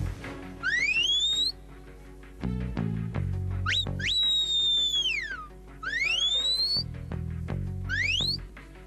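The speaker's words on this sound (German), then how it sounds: "Das ist eine spezielle Pfeife für Hütehunde." Shrill sheepdog herding whistle blasts for Border Collies herding sheep in Lower Austria sweep up and down in pitch, several separate calls of varying length, loud and close, over a faint low background.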